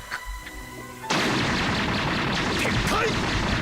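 An anime Gum-Gum Gatling punch effect from One Piece hits abruptly after a quiet moment and becomes a dense, loud barrage of rapid impacts and booming blasts that continues to the end.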